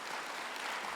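Church congregation applauding to welcome a visiting pastor and his wife, a dense, steady wash of clapping from a large crowd, fairly soft and continuous for a brief moment.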